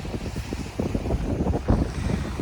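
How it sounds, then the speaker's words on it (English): Strong wind buffets a campsite on a beach in Yellowstone National Park's Thorofare backcountry, a steady loud rumble with gusty low roaring bursts and possible surf behind it, no voices. "it's so windy"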